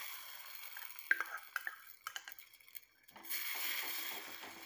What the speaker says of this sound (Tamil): இந்த க்ரீமை வந்து நம்ம இதில் ஊற்றிக்கலாம். நல்லா கட்டி இல்லாமல் கலந்துட்டு ஊற்றிக்கோங்க.